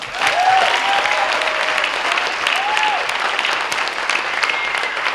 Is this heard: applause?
yes